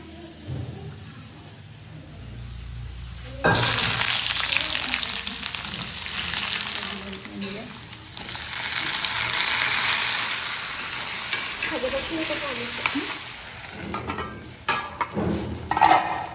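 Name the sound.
frying dried fish with onions in a pan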